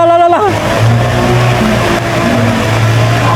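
A Honda Click scooter's engine revs and growls steadily as it pushes through a flooded street, loud and close throughout, with a brief higher whine at the start.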